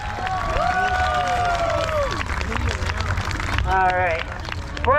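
A fair crowd applauds two racers, with clapping and cheering under excited shrieking voices and crowd babble, loud and close, swelling toward the end.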